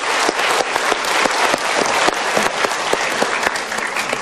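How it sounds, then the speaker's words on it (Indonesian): A television studio audience breaks into sustained applause, a dense crackle of many hands clapping steadily and close throughout. "Kita berikan tepuk tangan."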